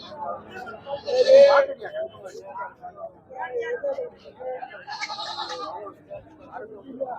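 Goats bleat at a busy Saturday goat market in Ettayapuram, Thoothukudi. One loud bleat stands out early, with fainter calls later, all under steady chatter and voices of traders nearby.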